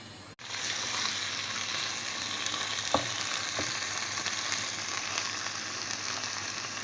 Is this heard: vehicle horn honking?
no